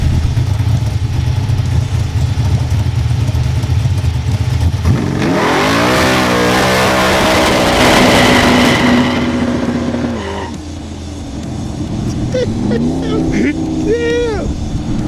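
An 800-horsepower all-motor 1968 Camaro under way: a low cruising drone breaks into a loud, climbing acceleration roar that holds for several seconds, then eases off into a quieter engine hum with whining tones near the end.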